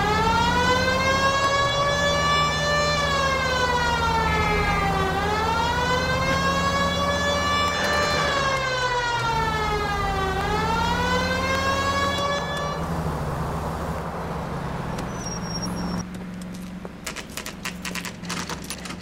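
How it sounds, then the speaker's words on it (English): Police car siren in the video game LA Noire, a loud wailing tone rising and falling in long sweeps over engine rumble, then stopping as the car halts. "It's much more fun with the siren on, Phelps."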